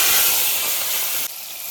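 Onion dropped into hot oil tempered with whole cumin, dried chili and bay leaf gives a loud, close, steady sizzling hiss that dips abruptly near the end.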